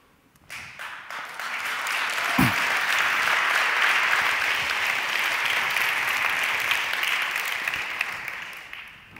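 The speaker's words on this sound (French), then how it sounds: "C'est stressant les applaudissements." Audience applause in a hall, a dense, sustained burst of many hands clapping that swells in quickly and holds steady for several seconds before thinning slightly.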